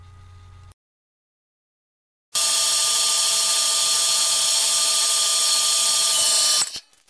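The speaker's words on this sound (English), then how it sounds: "this chunk of bar stock is way too long to get my little lathe. So, out to the bandsaw." A bandsaw cuts through aluminum bar stock with a loud, steady high-pitched metallic whine that runs unbroken for several seconds, starting abruptly after a brief silence and cutting off sharply.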